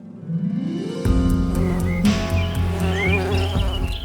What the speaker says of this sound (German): Nach dem langen Winter durchbrechen Bienen mit ihrem Summen die Stille.